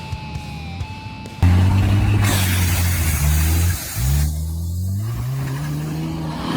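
A vehicle climbs a steep hill to the top, its engine revving hard in rising, loud pulls that change gear twice, with rough tire and ground noise underneath.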